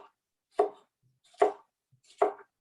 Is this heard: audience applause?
no